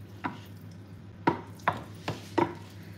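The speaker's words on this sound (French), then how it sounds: "Allez, je vais mélanger." Tartiflette ingredients with cream being mixed in a dish, four or five distinct soft knocks of a utensil against the dish, spaced irregularly and fairly close.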